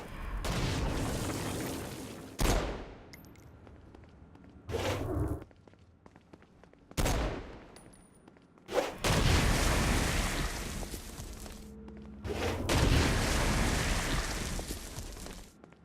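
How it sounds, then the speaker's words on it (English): Stone Blast power bursts and gunfire against flying demons in the game Saints Row: Gat out of Hell, heavy booming whooshes arriving in loud separate bursts with quieter rumbling gaps between them, no talk. "Stone Blast is especially useful on flying demons like this one"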